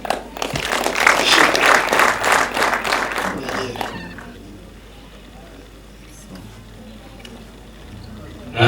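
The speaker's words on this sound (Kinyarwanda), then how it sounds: "natwe twongere tumushimire kandi n'amashyi menshi cyane" Guests at a Rwandan engagement and dowry ceremony applaud in a lively burst of many hands for about four seconds, then the clapping fades into a quieter room murmur with faint voices.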